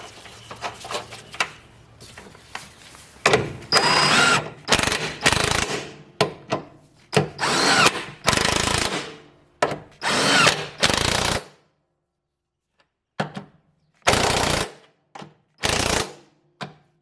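A power tool tightens the 17 mm top bolts of the front struts on a Ford AU Falcon. Loud bursts of whirring and rattling come close by in uneven runs, split by short pauses and a longer silence.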